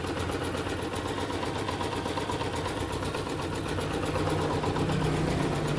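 A Honda CG125 motorcycle engine idles steadily up close after a tappet adjustment, a smooth, even rhythmic chugging with no tappet noise and no talking.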